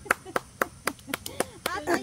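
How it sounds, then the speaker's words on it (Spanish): Sparse, separate claps from a few guests cheering for a groom at a wedding celebration, sharp hand slaps spaced roughly a quarter second apart, with light voices mixing in near the end. "¡Aplausos para el novio!"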